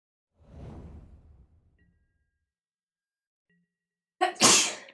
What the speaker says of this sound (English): My girlfriend's sneezing.